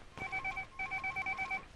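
A telephone rings close by with a rapid electronic trill repeated in two quick bursts, clear and moderately loud with no voices.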